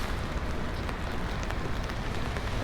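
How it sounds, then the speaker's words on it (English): A tropical storm rain shower falls in a city street as a steady, faint hiss of drops on hard surfaces, with light patter throughout and no voices. "got to hang out in this beautiful tropic rain shower"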